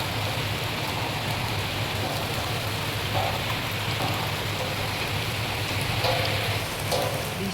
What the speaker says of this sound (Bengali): গাইস প্রচুর পরিমাণে বৃষ্টি হচ্ছে